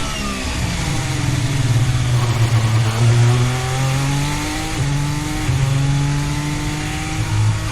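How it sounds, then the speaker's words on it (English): A loud Formula 1 car engine drones steadily at high revs along the pit straight, its tone stuttering and dropping briefly a few times as it misfires. "It started to misfire, didn't it, down the pit straight."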